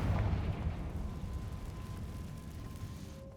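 The Confringo fire spell bursts at the start in Hogwarts Legacy, a booming explosion that fades into a long rumbling tail with a faint steady tone beneath.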